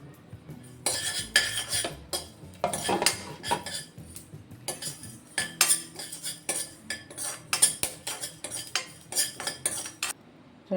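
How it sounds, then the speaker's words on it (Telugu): Flax seeds are added to a pan and stirred with a metal spoon, giving irregular scraping clinks and rattles of utensil on cookware in quick bursts, close and fairly loud, with no talking. "ఫ్లాక్స్ సీడ్స్ వేస్తున్నానండి."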